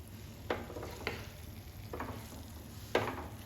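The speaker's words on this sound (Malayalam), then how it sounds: "ഫ്രൈ ചെയ്തെടുക്കുകയാണ്" Beef frying in a frying pan gives a faint, steady sizzle, broken by a few soft scrapes and clacks as it is stirred.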